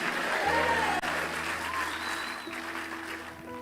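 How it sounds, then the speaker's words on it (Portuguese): Church congregation clapping in praise to God, a sustained round of applause that holds steady and softens slightly toward the end, with a low sustained keyboard tone underneath. "Aplauda dando glória a Deus."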